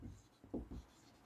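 Chalk or marker strokes on a board during a math lesson, a few soft scratchy marks close by over a faint room hum.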